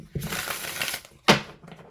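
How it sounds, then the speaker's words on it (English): Tarot cards are shuffled by hand in a fairly close, crisp riffling burst, followed by a sharp snap of the deck about a second later. "That was a nice, smooth shuffle."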